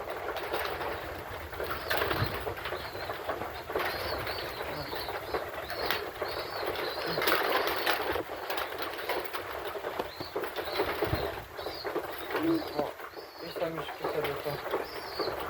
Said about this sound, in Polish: gołębki są. Samiczki jedzą. Tutaj jest samczyk.